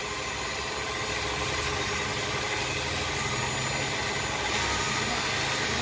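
A standard motorcycle engine with carbon recently cleaned out runs at a steady idle, a continuous, fairly loud mechanical drone close by with no talking over it.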